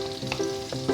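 Ginger sizzles in a hot pan for garlic prawns, a brief crackling fry with soft stirring, close and quiet, with no voices.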